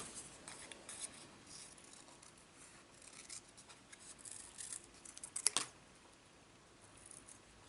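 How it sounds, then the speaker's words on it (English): Scissors cutting out a paper flower for a toilet paper roll wreath craft, quiet close snipping and rubbing of paper with one sharper cut partway through. "Then you'll cut out the flower."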